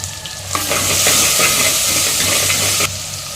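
Whole spices including cinnamon, cloves, mace, star anise and a bay leaf sizzle and fry loudly in a hot pan for masala, a steady crackling hiss with light stirring, no talk.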